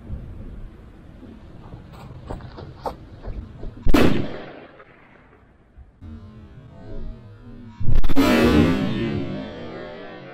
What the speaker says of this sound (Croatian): palimo moju petardu da vidimo kako će ona da pukne i hoće li da pukne ljudi